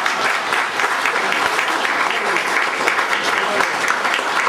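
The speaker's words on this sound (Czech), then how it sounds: "Klidně mu taky zatleskejte." An audience applauds, a dense steady wash of clapping hands that stays loud and even throughout.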